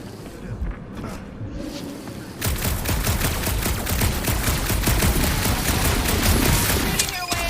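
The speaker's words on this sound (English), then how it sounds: "Shooting your way out of every problem again, Peter?" Gunfire in the video game Marvel's Guardians of the Galaxy: after a quieter stretch, rapid sharp shots begin in a steady dense volley that carries on loud and close, with a brief letup near the end.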